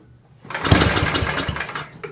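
An old 8-horsepower Tecumseh small engine cranks and roars loudly up close for about a second and a half, a steady rough mechanical clatter with no talking.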